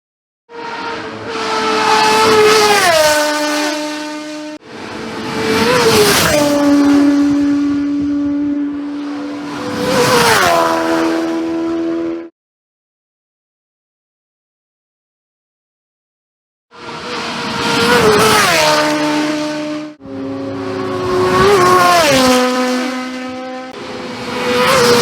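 Racing motorcycles at the Isle of Man Classic TT scream past at high revs, their loud engine notes rising and falling through gear changes in several long bursts, broken by a silent gap.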